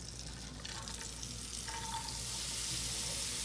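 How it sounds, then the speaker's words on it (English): Vegetables frying in butter in a hot pan give a steady, loud hiss close by that builds slightly toward the end, with faint clinks near the start and no talking. "A little bit of butter. Ow. And then these veggies are going to cook."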